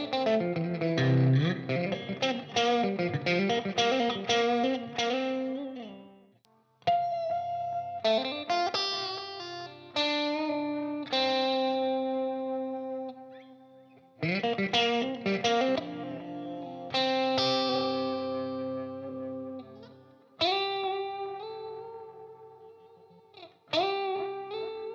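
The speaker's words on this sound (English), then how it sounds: "So this is my sort of like lower gain sound." ESP LTD EC331 electric guitar through a P90 pickup on a lower-gain setting, strummed chords and picked phrases ringing with effects and short gaps between them, played alone with no voices.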